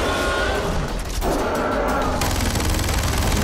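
Sustained automatic gunfire blasts at a yeti inside a cave in Far Cry 4, a dense, loud barrage that briefly eases mid-clip and then intensifies again with harsh crackling bursts.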